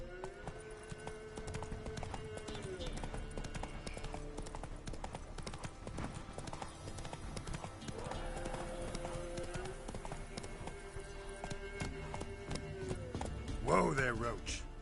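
Roach the horse gallops in The Witcher 3, rhythmic hoof clip-clops running steadily under game music, with a voice talking over parts of it and a brief louder burst near the end.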